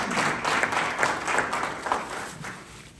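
An audience at a community First Fridays gathering applauds for veterans, with close, lively clapping that swells in waves and then tapers off over about three seconds.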